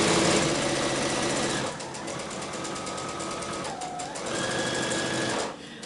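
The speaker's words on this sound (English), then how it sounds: "I'm just going to sew this and show you what I'm talking about" Sewing machine stitching a quilt strip set, a close, steady mechanical whirr with rapid needle chatter that briefly slows and shifts pitch before running on and stopping near the end.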